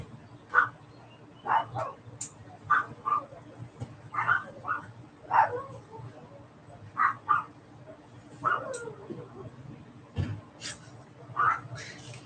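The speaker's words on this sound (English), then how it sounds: "You hear my dogs? They sound so cute." Pet dogs give a string of short, high yips and barks at a steady pace, moderately close, over a quiet indoor hum.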